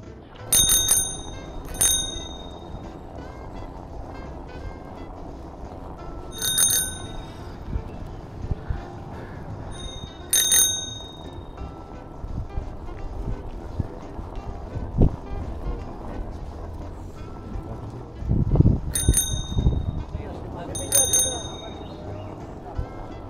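A bicycle bell rings in short bright bursts about five times, spaced out over outdoor wind noise and rumbling movement while riding along a bicycle strip.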